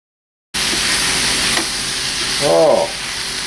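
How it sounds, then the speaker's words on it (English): Cornstarch-tossed beef browns in a hot pan for a stew, giving a steady, loud sizzle and hiss that starts abruptly, with a brief clatter of stirring partway through; no one speaks. "The beef has been lightly tossed in the cornstarch, and you just want to brown the beef."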